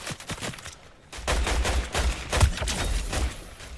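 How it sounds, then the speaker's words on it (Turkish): Gunfire in the video game Fortnite, a rapid burst of shots at moderate volume, near and steady across several seconds. "Yanlışlıkla adam vurdum."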